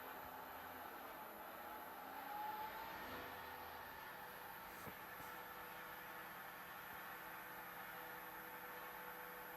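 A Thojomech TFC11 CNC machine runs at full throttle without cutting, giving a steady, continuous mechanical hum and whine with a constant high tone, moderately loud and unchanging throughout, with no talking.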